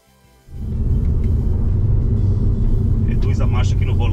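Abarth Pulse accelerating hard on the Tarumã race track in Brazil, a loud, steady low engine roar that swells in abruptly after a quiet start and holds, with a voice speaking over it near the end.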